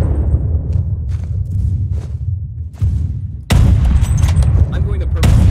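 Gunfire in the online shooter Phantom Forces, a dense run of loud shots and booms that thicken sharply in the second half, with game noise and talk running underneath.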